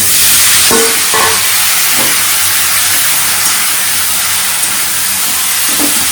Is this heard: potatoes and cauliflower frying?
yes